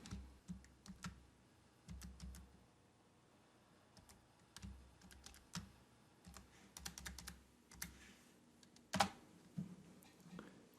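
Fingers type on a computer keyboard during a software tutorial for Axiom v21, with quick clusters of crisp, close key clicks separated by short pauses and no talking.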